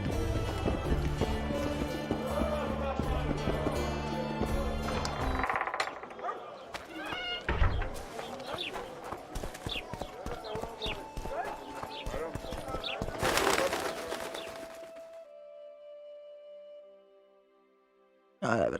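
In The Witcher 2, the horse Roach clip-clops through a forest with fast hoofbeats, mixed with game music, clashing effects and voices talking, before the sound cuts to near silence.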